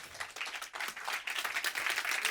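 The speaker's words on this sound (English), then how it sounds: "A big applause to Simon Brampton." An audience applauds a speaker at a live talk on language learning, a steady patter of many hands clapping at a modest level, heard alone without speech.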